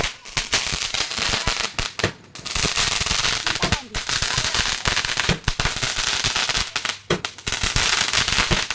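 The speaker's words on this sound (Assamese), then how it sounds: "অলপ ফটকা ফুটাবৰ কাৰণে ওলাই আহিছোঁ।" Diwali firecrackers and fireworks bursting outdoors in a festive neighbourhood, a dense run of loud cracks and bangs with crackling between blasts, continuing nearly without pause throughout.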